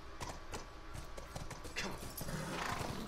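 A horse in The Last of Us Part II video game moves with soft, muffled hoof thuds at a walking pace over a steady ambient bed, quiet and blended into the background.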